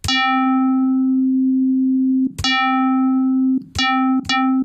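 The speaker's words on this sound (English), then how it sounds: "we're getting a lot of frequency modulation at the start of a note, and then it fades away while I hold the note down" Spire synthesizer notes, each opening with a bright burst of frequency modulation that quickly fades into a steady, pure sustained tone, one long held note followed by three shorter ones.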